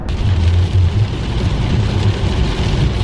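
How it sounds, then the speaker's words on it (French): Steady rain hisses continuously, a dense wash of noise with a low rumble underneath and no voices. "Ah, la pluie, ça fait longtemps qu'on en avait pas eu."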